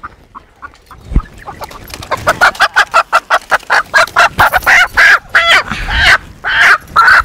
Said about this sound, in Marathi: हा बघा हा कोंबडा कसा आहे